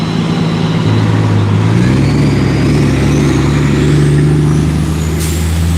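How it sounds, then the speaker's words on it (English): Heavy road traffic rumbles past nearby, a loud continuous engine drone with shifting pitch as vehicles go by, and a brief hiss near the end. "There is a road over here right beside me."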